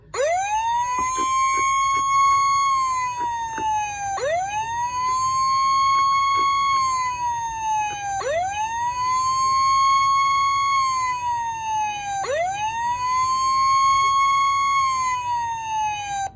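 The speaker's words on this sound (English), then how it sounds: "This controls the siren, siren number 2, the actual fire truck siren." A Hess 2000 toy fire truck plays its electronic fire-truck siren, a slow wailing sweep that rises and falls four times, steady and fairly loud with no talking.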